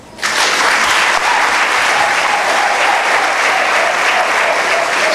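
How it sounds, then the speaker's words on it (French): A crowd at a Bloc républicain political rally breaks into loud, dense applause. It starts abruptly and holds as a steady roar of many hands clapping for several seconds. "Applaudissez."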